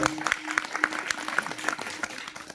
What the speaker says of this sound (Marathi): एकदा गुरुजीसाठी जोरदार टाळ्या